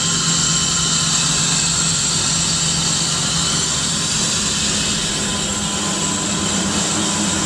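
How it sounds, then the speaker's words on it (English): A KITT replica car's running engine with a steady, loud rushing of air drawn into its intake, a continuous whooshing roar over a low hum, close and without talk. "You hear all the air coming into that intake right there."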